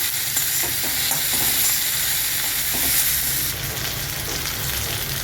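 Onions salted in a pan fry and get stirred with a constant hissing sizzle, spoon scrapes and clicks surfacing now and then over the steady frying noise.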